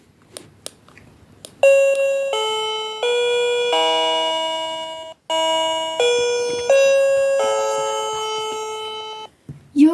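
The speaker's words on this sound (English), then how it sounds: "Your doorbell is now paired." A battery-operated wireless doorbell plays a loud, clear multi-note electronic chime melody twice in succession, ringing close by after a few faint clicks.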